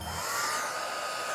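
A hair dryer blows steadily on hair during a makeup and hairstyling session, giving a loud, close whoosh and hum for a second or so with no talking.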